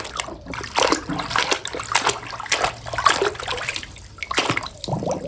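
A toy HMT tractor is washed in water, with repeated splashing and trickling sloshes in close bursts, steady throughout and without talk.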